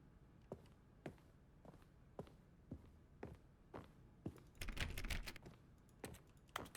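Computer keyboard typing from The Stanley Parable, heard as a series of separate clicks spaced about half a second to a second apart, with a louder, denser burst of keystrokes near the middle. No one talks.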